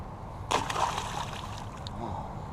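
Carp released back into the Monongahela River: a short, fairly close splash followed by gentle sloshing and trickling water, with a faint voice in the background.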